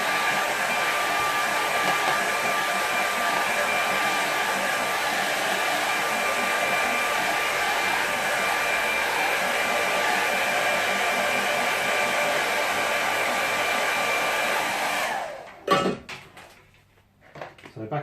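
A hair dryer blows a steady, loud, even whir over wet watercolour paint for about fifteen seconds, then cuts off, followed by a few clunks as it is set down.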